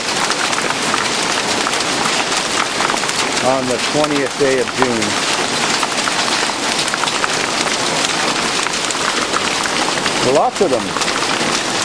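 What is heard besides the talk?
hail hitting cars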